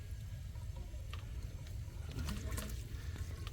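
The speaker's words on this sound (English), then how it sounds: "That's how you water directly to the root ball all the way down." Water trickling down through a DIY plant watering pipe toward the root ball, a steady low gurgling flow with faint splashes and drips, close and without talk.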